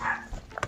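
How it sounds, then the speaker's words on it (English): Pet dogs bark in the background indoors, a few short faint yips and barks with no talk over them. "if you hear my dogs barking in the background, they're barking at nothing again."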